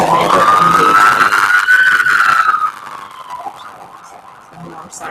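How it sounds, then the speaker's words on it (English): Wailing emergency vehicle siren rising and falling in pitch, loud and close for the first few seconds, then fading into distant traffic with a faint second siren near the end. "sirens."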